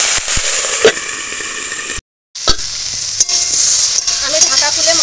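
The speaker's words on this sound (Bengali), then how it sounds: "হলুদ দেওয়ার পরে আরও একটু ভেজে নিচ্ছি সবজিটা" Vegetables frying with turmeric powder in a covered pan, a steady close sizzle with occasional stirring scrapes, briefly cut to silence partway through.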